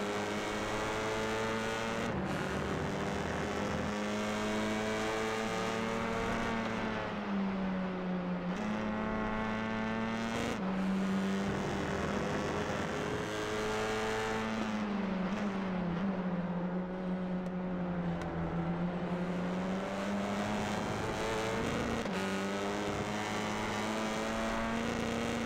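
Sustained engine whine of a Honda touring car in a TCR sim racing game at Hockenheimring, a steady loud tone rising and falling with gear changes as the car runs close, alone without talk.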